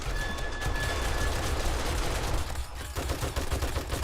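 Automated turrets firing in the survival video game 7 Days to Die, a dense, continuous rattle of rapid gunfire with a brief dip before the bursts resume.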